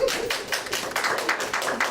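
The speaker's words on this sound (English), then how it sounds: "let's clap on that" A small group of people claps together in a steady, fairly quick rhythm. The clapping is close and moderately loud, and it carries on for the whole stretch.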